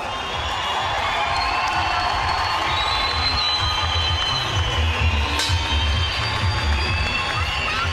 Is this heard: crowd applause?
yes